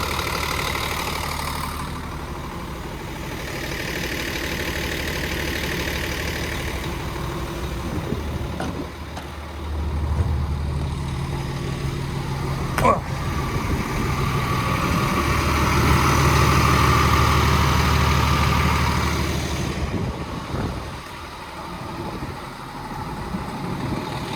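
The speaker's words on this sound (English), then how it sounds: "I'll let it run, let that engine oil get warm." An old DX420 engine idles steadily for a long stretch, a low rumbling chug with slight swells and a brief sharp click midway.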